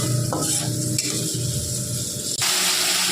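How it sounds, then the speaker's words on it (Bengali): A spice paste, loosened with a splash of water, sizzles loudly in a pan for a kohlrabi curry, a dense frying hiss with brisk stirring scrapes that drops abruptly midway before surging back. "এবার মশলাটা ভালো করে কষিয়ে নেবে মামনি"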